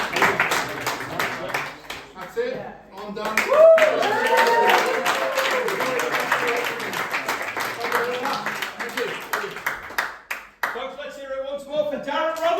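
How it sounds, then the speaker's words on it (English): Audience applause at a close-up magic show, clapping mixed under someone talking and rising more clearly toward the end. "Give them both a big round of applause as well."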